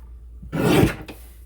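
A paper trimmer blade makes one short, close rasping swipe as it cuts scrapbook paper, ending with a faint scrape. No one speaks.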